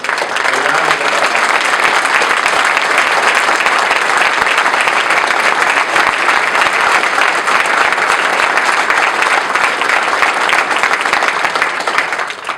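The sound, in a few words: audience applause for staff and commissions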